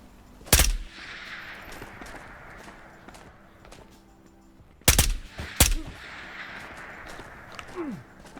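Gunfire in the video game Ghosts of Tabor: a loud sharp shot near the start, then after a quiet stretch two more close, heavy shots in quick succession, with faint movement noise between.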